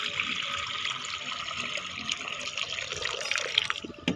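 Water poured into a birds' water container in a cage area, a steady splashing trickle running throughout at close range, with a few brief louder splashes near the end.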